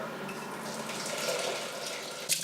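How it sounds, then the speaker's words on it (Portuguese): Eggplant seeds being rinsed in a sieve under a running tap, a steady close wash of water hiss with a brief louder splash near the end. "recolhemos as sementes que limpamos na peneira na água corrente."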